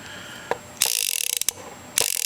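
Sharp mechanical ratcheting clicks as the cylinder of an unloaded Ruger Blackhawk .357 Magnum revolver is turned, a few separate snaps then a rapid run of clicks, close and crisp.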